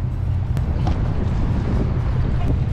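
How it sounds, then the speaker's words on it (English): A service boat pulls up alongside a VLCC tanker at the port of Kawasaki. Its engine gives a heavy, low rumble that mixes with strong gusting wind noise, loud and close for a few seconds. "Now this is our service boat."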